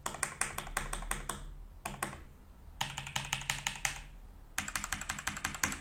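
Bursts of rapid typing on an HP Keyboard 800 mechanical gaming keyboard with Outemu switches, crisp clicky keystrokes in quick runs separated by short pauses, close and alone.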